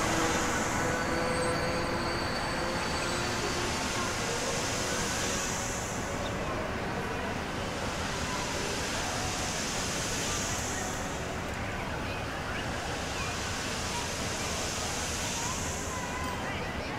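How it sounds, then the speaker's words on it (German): Train crossing a bridge in the Transport Fever video game, a steady loud rolling rumble with broad hiss that swells and fades several times, continuous throughout. "Der Zug, der jetzt über die Brücke geht,"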